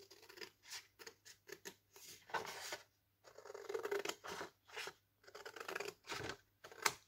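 Scissors cutting paper for a Christmas card: a series of close, crisp snips in short bursts with brief pauses between them, quiet overall and without speech.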